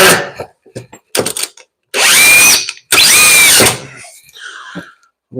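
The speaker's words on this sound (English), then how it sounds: "I'm gonna put a few more screws to attach it to the floor" A power drill drives screws through a curb into a bathroom floor in two sustained whirring bursts with a rising whine, separated and preceded by short clicks and handling knocks.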